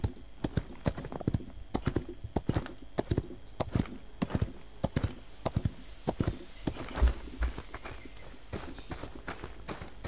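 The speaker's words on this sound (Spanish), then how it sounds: "Uy, me he bajado muy pronto del caballo." Horse galloping in the video game Paladins, a steady run of sharp hoof clip-clops at an even rhythm that thins out toward the end, heard up close with a faint background hum.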